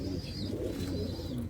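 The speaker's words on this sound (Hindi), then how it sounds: "ये शेखुपुरी कबूतर है" Cooing of a Shekhupuri pigeon kept at a Lahore loft, a low steady murmur running continuously under faint higher chirps, close and fairly quiet.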